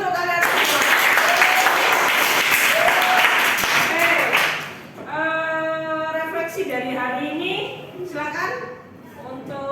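Classroom applause in an Indonesian language lesson, strong clapping for about four seconds that stops abruptly, followed by a voice talking.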